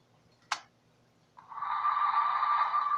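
A Bachmann ALCO S4 model locomotive is plugged in: a single sharp click, then a steady electronic engine hum that starts about a second later and carries on at moderate loudness with no voices.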